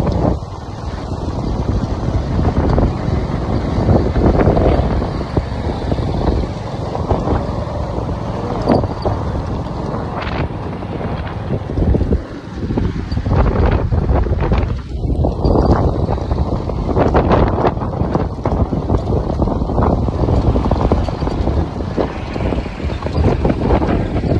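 Strong wind blows across an open village spot in Saran Pokhara, a loud continuous roar buffeting the microphone with gusty swells and no pauses.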